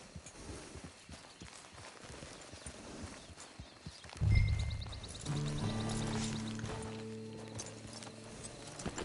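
Horse hooves clip-clop at a walk in Red Dead Redemption near a camp, light irregular steps, then a louder thud and busier shuffling with faint tonal background sounds, no one speaking.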